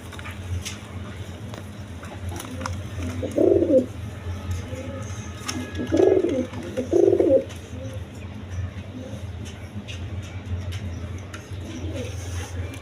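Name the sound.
Rajshahi Golla pigeons cooing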